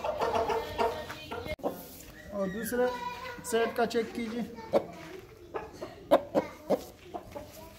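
An Aseel fighter rooster clucks in short, repeated bursts at a poultry market, with someone talking throughout over the bird sounds.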